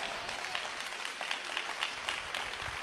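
Audience applause during a Telugu church sermon, a steady dense wash of many hands clapping at moderate distance, with faint room reverberation and no voices rising above it.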